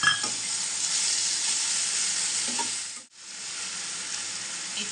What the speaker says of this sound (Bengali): এবারে আদা রসুন বাটা দেব।